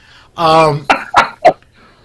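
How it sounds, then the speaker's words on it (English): A voiced sound followed by three quick, harsh coughs close to the microphone, loud and abrupt, with nothing else around them. "I gotta get rid of that cough."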